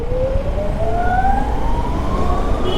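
Ather Rizta electric scooter riding in Zip mode, a thin motor whine climbing steadily in pitch as it accelerates, over loud steady wind and road rumble.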